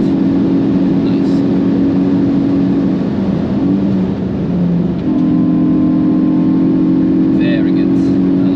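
A Hyundai i20 N with RaceChip tuning drones loudly at speed on the Nürburgring, its engine note dipping briefly at an upshift into sixth gear before settling into a steady tone again, with a voice speaking inside the cabin.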